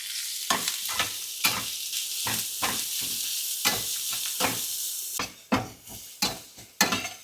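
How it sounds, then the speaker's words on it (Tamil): Grated radish sautéing in hot oil for a chutney, a steady close sizzle broken by repeated spatula scrapes and stirring strokes against the pan, with no voices. "முள்ளங்கி துருவி வச்சுருக்கோம் இல்லைங்களா சட்னிக்கு, அதை ஃபஸ்ட்டு எண்ணெயில் போட்டு நல்லா அதை வந்து வதக்கிக்கணுங்க"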